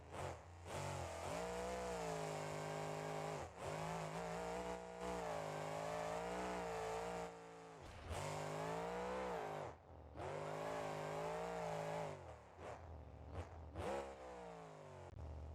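A modded video game Jester car with new exhausts revs hard in repeated surges, the engine climbing and dropping through gear-like pulls with brief gaps between, loud and close with no talking.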